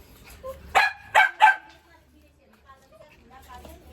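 A Pomeranian lets out three quick, sharp barks close by, followed by softer yips, while people talk nearby.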